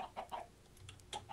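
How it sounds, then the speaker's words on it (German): Several short clucks from Minecraft chickens on a farm, quiet and spaced out in brief bursts with small pauses between them, with no other sounds around them. "Was ein sinnloses Gacker hier draußen."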